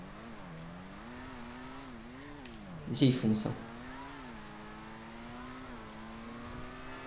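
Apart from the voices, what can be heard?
sports car driving in the video game GTA 5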